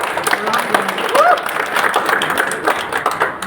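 An audience bursts into applause at a company gathering, a dense and loud clapping that carries on without a break, with a voice and some crowd noise mixed in underneath.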